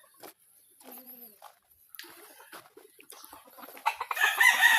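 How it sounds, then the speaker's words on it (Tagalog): A red rooster clucks and crows close by amid a group of fowl, with scattered calls and a louder burst of crowing that rises toward the end. "Isang red rooster"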